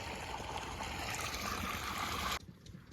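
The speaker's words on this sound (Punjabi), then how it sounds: "ਹੁਣ ਦੁਬਾਰਾ ਪਾਣੀ ਆ ਚੁੱਕਿਆ ਕੁਝ ਪਾਣੀ ਉਧਰ ਜਾ ਰਿਹਾ" Irrigation water flowing beside a filter in a wheat field: a steady, close rush of running water with a gurgling texture that drops off sharply near the end, leaving quieter water sounds.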